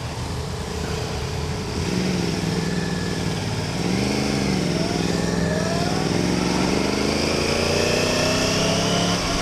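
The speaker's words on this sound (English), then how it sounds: "I'm barely touching the throttle. I'm in fucking standard mode too." A liter-class sport motorcycle engine runs at light throttle in standard riding mode at a motorcycle show, giving a steady, loud, close drone with a few gentle rises and falls in pitch and no talking.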